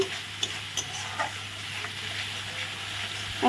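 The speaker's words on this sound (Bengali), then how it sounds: "এখন দিয়ে দেব লবণ স্বাদ মতো হলুদ সব মশলা দিয়ে ভালো করে আগে কষিয়ে নেব" Salt, turmeric and mixed spices sauté in a pan, giving a faint, steady sizzle and hiss with a few light clicks from stirring.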